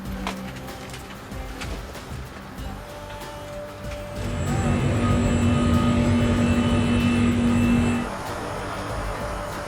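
Airliner engines drone steadily from inside the cabin while the plane waits in a takeoff queue, then swell louder for a few seconds before settling back to a lower hum.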